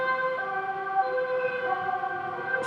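An Amsterdam police car siren sounds steadily, a sustained multi-tone wail holding level pitch, moderately loud and continuous without pause, with no speech.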